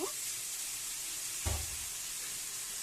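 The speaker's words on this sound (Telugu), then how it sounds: "టమాటోస్ వేసేసుకొని బాగా కలిపేసుకోవాలండి." Chopped tomatoes are stirred into a potato curry in a hot pan, giving a steady soft sizzle with a louder scrape and clatter of the spoon midway, close and unbroken.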